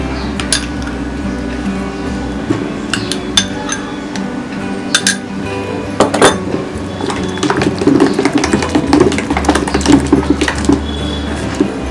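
Pancake batter being whisked in a bowl with butter, flavoured with cardamom and cinnamon powder: steady scraping and clinking of utensil against bowl, busier and louder toward the end, with no talk.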